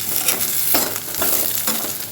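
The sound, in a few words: sautéing onions and green chillies in pan for chicken biryani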